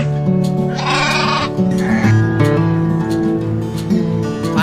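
A toy sheep gives a loud, close, sustained electronic bleating that wavers in pitch across the whole stretch, with no voices over it.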